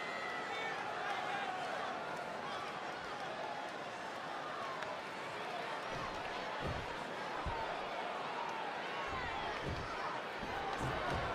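Arena crowd in the wrestling video game WWE 2K20 roars in a constant, dense wash throughout a handicap match, with a few thuds and slams near the end and commentators talking over it.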